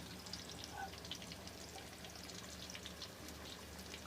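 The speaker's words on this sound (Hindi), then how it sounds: "ये देखें, बहुत अच्छे से फ्राई हो रही है।" Potato chips for crispy homemade French fries bubbling in hot oil, a steady dense sizzle with fine crackling pops throughout, close and continuous.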